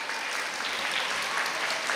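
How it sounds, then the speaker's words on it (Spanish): A crowd applauds at a school awards ceremony, with dense, steady clapping running continuously throughout, moderately loud and with no voices over it. "fuerte aplauso, por favor"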